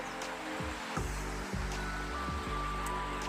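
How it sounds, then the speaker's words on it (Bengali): Black seed hair oil heats in a double boiler set on a tawa over a stove, giving a faint, steady bubbling with soft pops at regular intervals. "ডাবল বয়লার প্রসেসে আমি তেলটাকে খুব ভালোভাবে ফুটিয়ে নেব।"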